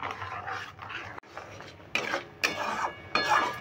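Kheer, a milk pudding, being stirred in a pot: repeated scraping, sloshing strokes of a spoon against the pot, close and uneven, in several bursts with short pauses between them.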